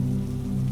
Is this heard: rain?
yes